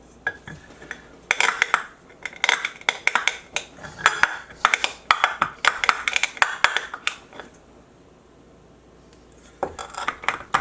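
Whole peppercorns are cracked under the bottom of a heavy small skillet, producing a rapid series of sharp metallic knocks and clinks close by, pausing briefly before resuming.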